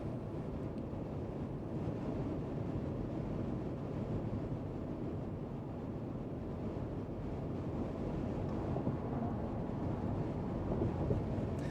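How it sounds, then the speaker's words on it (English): Steady, loud broadband roar of wind noise inside the cabin of a 2025 Mercedes-Benz G580 EQ at cruising speed, a continuous rushing hiss with a rumbling low end and a slightly louder patch near the end, with no talk. "All right, so good deal of wind noise,"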